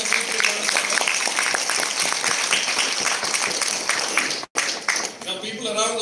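A summit audience breaks into dense, sustained applause that fills the hall, with a brief drop near the end before clapping and voices resume.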